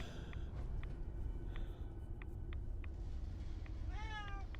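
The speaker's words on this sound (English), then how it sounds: "Hey, I can hear Mariner Kitty" A cat meows a few times over a steady low rumble of background noise, short faint cries ending in a drawn-out wavering meow.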